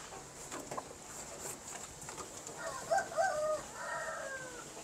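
Shamo chickens clucking and calling faintly in the background, with a few louder squawks partway through, over steady ambient noise.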